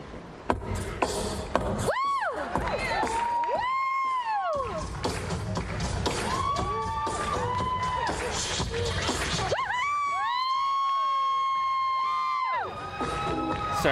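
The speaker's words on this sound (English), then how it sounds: "Sorry about the screeching girls" High-pitched girls' screams and cheering from a crowd at a live music performance, rising in repeated swooping bursts over loud, continuous music throughout.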